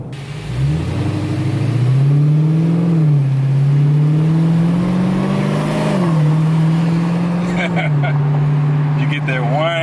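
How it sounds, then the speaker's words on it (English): Dodge Hellcat accelerating repeatedly, its supercharger whine riding over a loud exhaust roar that climbs and settles through several gear changes, close by, with speech faintly mixed in. "You get that whine, you get the exhaust."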